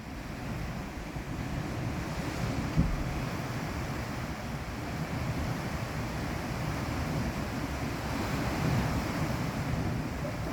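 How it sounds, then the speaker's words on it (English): Strong wind in a big storm, a continuous loud roaring rush that swells slightly, heard outdoors with no talking. "But it is really windy out there. It is a big storm."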